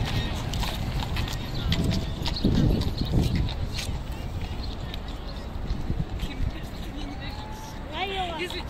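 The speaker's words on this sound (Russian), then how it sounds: "Лошади тут гоняют." Horses race past outdoors, their hooves clip-clopping in a brief loose patter at moderate distance, mostly under people talking nearby.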